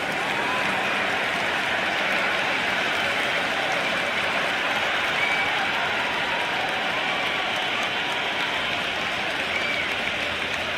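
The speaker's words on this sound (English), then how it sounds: "The crowd is electric right now." A large cricket stadium crowd at an India versus England T20 match roars after a six, a dense, steady wash of cheering and applause that holds loud and unbroken throughout.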